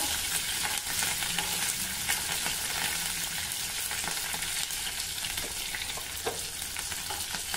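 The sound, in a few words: sautéing tempering with green chili pieces in pan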